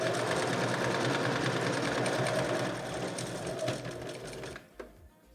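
A sewing machine stitches fabric for a face mask, a fast, steady mechanical chatter running close and continuous before slowing and stopping near the end.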